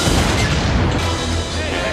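A loud, sustained rumbling blast from an explosion outside in a Batman animated series scene, heavy low booming that fills the whole moment with crashing texture and no clear break.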